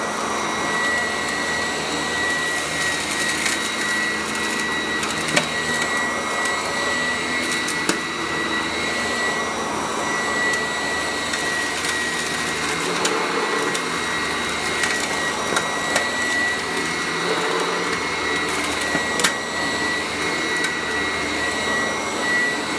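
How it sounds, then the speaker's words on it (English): A running machine with a belt drive makes a steady, loud broadband whirring roar while small twigs rattle and crackle through it in scattered bursts, with no talking. "Those are just little twigs you hear in there."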